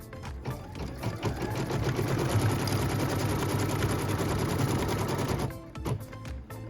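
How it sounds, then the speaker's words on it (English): A sewing machine runs steadily for several seconds, stitching the tack-down line of a maple leaf quilt block, with a fast, even rhythm at close range before it stops. "What we're stitching now is the tack down line for piece number 10."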